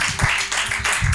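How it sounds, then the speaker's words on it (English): A few loud, close bursts of clapping from a gathered audience honouring marathon runners at a stakeholder lunch, brief and uneven rather than a sustained ovation. "let's give a round of applause to all the runners as well"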